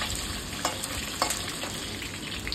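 Fish half-frying in hot mustard oil in a pan, a steady bright crackling sizzle with occasional louder pops and spatters, close and continuous with no talk.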